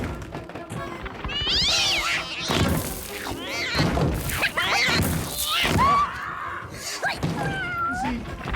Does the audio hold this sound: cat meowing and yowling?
yes